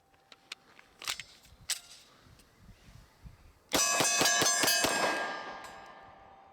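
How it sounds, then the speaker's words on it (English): Several sharp metallic clinks and clanks come first, then one loud, abrupt pistol shot that knocks an Olight PL-1 II Valkyrie weapon light off the gun, ringing out and fading over a couple of seconds. "Guess it didn't work out too well. It flew off your pistol."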